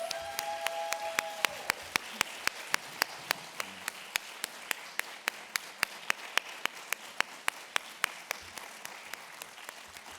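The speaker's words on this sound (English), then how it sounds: "Can we give one more round of applause?" A small audience at a lecture gives a round of applause that settles into slow, evenly spaced claps, sparse and fairly quiet, with a brief tone at the start.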